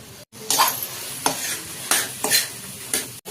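Fish being stirred and fried for Apollo fish manchurian, with several bursts of sizzling and scraping in a pan, close and loud, separated by short pauses.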